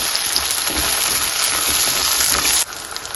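Tomatoes frying with onions in a pan, a steady close hiss of sizzling that runs loud and even, then drops suddenly near the end to a quieter crackle.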